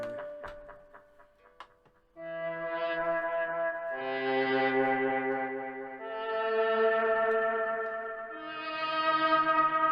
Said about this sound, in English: if you just chuck on some delays, bit of reverb